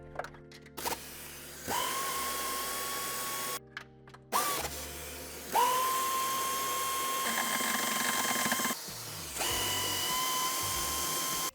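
Power tool driving out nuts on the inner side of a 2016 Mercedes-Benz E-Class S213 Estate during tow hitch fitting, several loud whirring bursts separated by short pauses, close by and with no speech.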